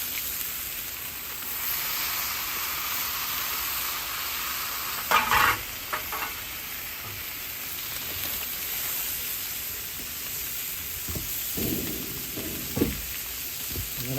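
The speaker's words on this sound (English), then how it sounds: "I do like to smash them down a little bit and get a good sear on them that way." Smash burgers searing on a Blackstone griddle, a steady loud hiss of frying fat, with a few scrapes and taps of a spatula partway through, close and continuous, no talking.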